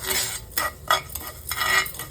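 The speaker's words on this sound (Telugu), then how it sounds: "ఇప్పుడు నాలుగింటిని అయితే బాగా ఫ్రై చేసుకోవాలండి" Coriander seeds and cumin stir-fried in a dry pan: a series of rhythmic scraping strokes of a spatula against the metal, close and fairly quiet, with no speech.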